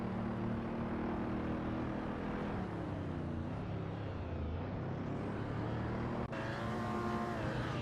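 Supercars race at Weatherfield Speedway in a video game, with a continuous, loud, buzzing engine whine that shifts in pitch as the cars accelerate, plus a brief break and shift near the end.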